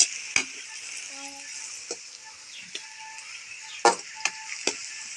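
Onions fry in a pan in a village kitchen with a thin, steady sizzle, punctuated by several sharp knocks and scrapes of a stirring spoon, close by and fairly quiet.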